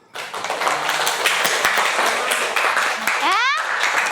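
Classroom applause for a student group: continuous clapping from many hands fills the room at a steady level, with voices and a brief whistle-like sound mixed in near the end.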